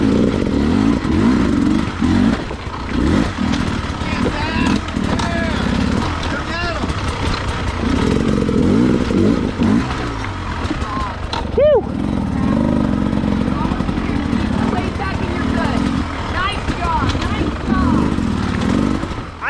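A dirt bike engine revs and labours continuously through a rock garden in a Tough Like RORR enduro qualifier, with rattling clatter and a rider's voice talking over it.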